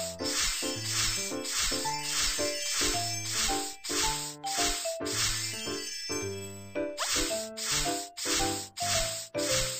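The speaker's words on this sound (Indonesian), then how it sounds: "Semprotkan deterjen." A detergent spray plays in a mobile animal-care game while an oil-covered penguin is cleaned, with repeated short spray bursts set over a bright, rhythmic game music loop.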